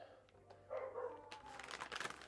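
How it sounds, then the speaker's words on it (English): A dog barks and yips excitedly at a delivery arriving, with a drawn-out howling whine rising among quick, agitated barks, fairly faint and indoors amid some rustling. "My dog loses his mind."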